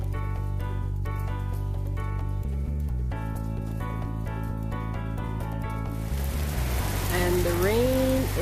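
Rain from an afternoon storm sets in as a steady hiss of falling water near the end, after several seconds of background music; a brief voice-like tone rises over the rain.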